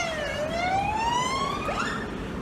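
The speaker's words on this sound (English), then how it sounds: "An ambulance going in the distance there, probably heading towards Sudbury." Ambulance siren wailing in the distance from a town street webcam, a steady rising tone sweeping upward continuously over a constant traffic rumble, with no talking.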